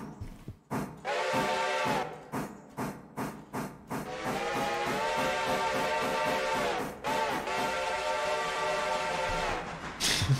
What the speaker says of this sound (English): Don't mind my terrible whistle blowing.